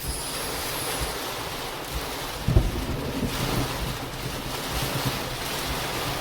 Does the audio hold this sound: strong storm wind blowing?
yes